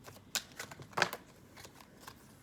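Tarot cards are shuffled in a few quick, soft riffling bursts, close and fairly quiet, with brief papery slaps between short pauses.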